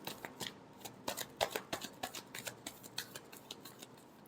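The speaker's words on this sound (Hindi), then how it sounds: "last shuffle," Tarot cards are shuffled close by in a steady run of crisp riffling flicks and soft taps, with no voices.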